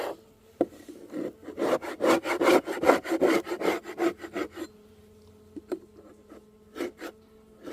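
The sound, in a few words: scraping and cleaning the bottom of a beehive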